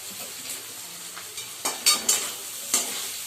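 Spices are stirred into egg tadka in a frying pan, soft sizzling under a few sharp scraping strokes of a spoon against the pan, close and clear with no talking.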